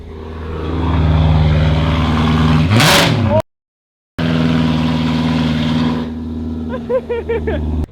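A BMW E30 engine revs loudly and close, climbing in pitch to a sharp peak before cutting out briefly, then returning to a steady high roar with some stuttering bursts near the end.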